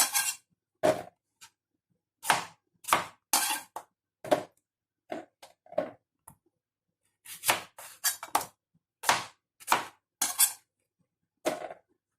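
A knife slicing ingredients for Chinese soup, sharp separate chopping thuds on a board in uneven clusters with silent gaps between, close and clear with no talk.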